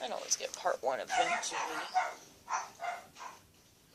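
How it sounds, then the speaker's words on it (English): Dogs bark and yip in short bursts indoors, mixed in with someone talking over them. "Excuse the dogs. They're stupid and bark at everything."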